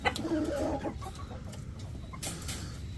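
Chickens, including Golden Buff hens, cluck at feeding time, with a burst of close, busy clucking at first that drops to quieter, scattered sounds from the flock.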